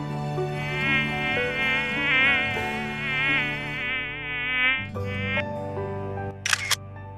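An insect buzzes with its wings, a close, sustained whine that wavers in pitch and swells and fades for several seconds before dropping lower, ending with a couple of brief clicks.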